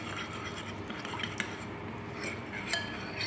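Cornstarch being stirred into a steamed purple sweet potato and coconut mixture, with soft scraping and faint clinks of a spoon against the bowl, quiet and close.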